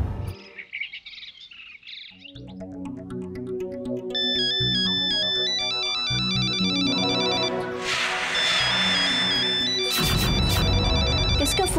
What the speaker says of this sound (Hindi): किसका फोन है विकी?